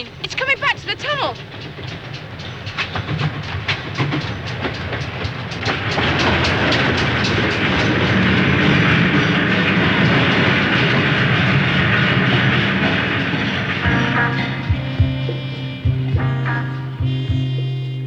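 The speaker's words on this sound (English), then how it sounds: "The spook train. It's coming back to the tunnel." A train rumbles and clatters through a tunnel, loud and close, with clickety-clack rhythm building to a steady roar before easing off with a low hum.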